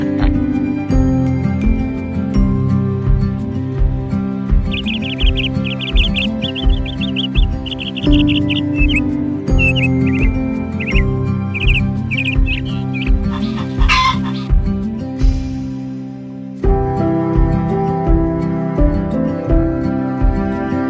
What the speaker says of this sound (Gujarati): પછી આપણે આવી ગયા પક્ષી જોવા માટે